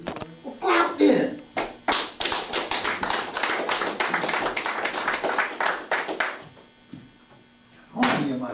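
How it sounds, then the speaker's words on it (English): An audience claps in a hall, with bursts of hand claps building into a dense run of applause, then fading before a short final clap near the end. "Well, clap then."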